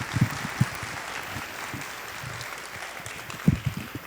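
Students clap to welcome professors introduced at a university college festival talk show, a moderate crowd applause with a few louder nearby claps standing out.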